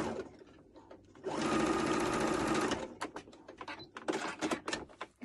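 A sewing machine hems stretchy fabric for a peplum top, running in one brisk, loud burst of rapid stitching, then falling to scattered clicks and taps as the fabric is handled.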